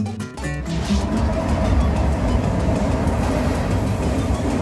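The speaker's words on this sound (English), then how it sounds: "2 trailers on each train car. That's double. These cars are double stacked." A freight train of double-stacked cars rolls past at close range, a dense continuous rumble and rattle of wheels on rail with a brief louder clatter at the start.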